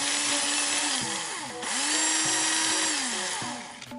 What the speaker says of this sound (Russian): Обычно, чтобы быстрее это все происходило, пользуюсь шуруповертом, таким небольшим, специально брал такой.